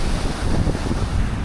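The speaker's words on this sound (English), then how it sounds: "I think the wind is fine. It's not too windy yet." Wind on a beach in Playa del Carmen, buffeting the microphone as a loud, steady rumbling roar with no other clear sounds over it.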